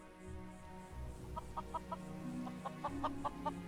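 Chickens on a farm at Amber Creek in Skyrim's Falskaar mod cluck in short, quick pulses, a few spaced bursts over a low ambient hum, moderately soft and without speech.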